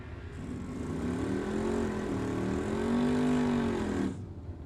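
A 1968 Ford Mustang drag car launches off the line at a drag strip with a loud engine roar that climbs in pitch, holds strong for several seconds and then cuts off sharply.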